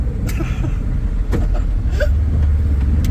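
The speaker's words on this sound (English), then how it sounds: "Just keep plowing and plowing until we get it to where we like it." A vehicle plowing a snow trail through a backyard rumbles steadily up close, its low engine drone continuous with a few scattered squeaks and thumps on top.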